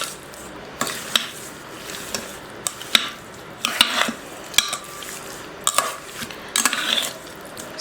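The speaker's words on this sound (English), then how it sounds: "we're gonna mix this around. Make sure it gets all that seasoning on there." Seasoned chicken gets stirred with adobo in a pot, giving irregular wet squishes and utensil scrapes against the pot at close range, with gentle sizzling underneath and no talking.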